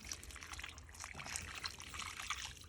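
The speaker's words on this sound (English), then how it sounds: "Water in with seaweed." Seaweed solution trickles from a watering can onto a freshly replanted Australian native pepper berry tree, a soft, uneven splashing dribble that runs continuously at close range.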